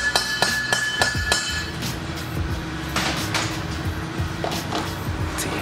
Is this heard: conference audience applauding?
no